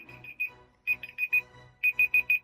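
A shrill electronic alarm in a Pillars of Eternity PS4 game session beeps in quick bursts, a few pips, a pause, then a steady run of four sharp beeps over faint low background sound.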